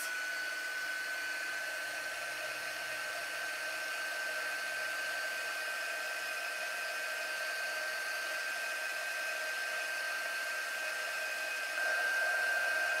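Hair dryer blowing on a painting of a spring bunny and carrot patch, a steady whirring hiss with a constant high whine, running alone and unbroken at an even level.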